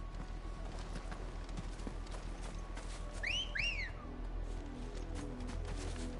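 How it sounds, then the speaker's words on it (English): A two-note wolf whistle rings out in Final Fantasy XVI, rising then falling twice in quick succession over a steady bed of hooves and ambient game noise near a main gate. "Was that a wolf whistle?"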